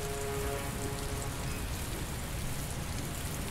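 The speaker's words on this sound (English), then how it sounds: "Sounds like rain." Rain from the video game Heavy Rain falls steadily, a dense, even hiss of drops hitting surfaces that stays constant and fairly quiet throughout with no voices.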